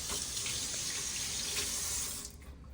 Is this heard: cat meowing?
no